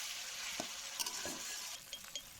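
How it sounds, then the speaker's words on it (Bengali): Potatoes frying with spices in a pan for a spicy Bengali fish curry, a soft constant sizzle with occasional stirring scrapes, fairly quiet. "আর একটু এই সব মশলার সাথে ভালো করে এখন আলুটাও একটু ভেজে নেব"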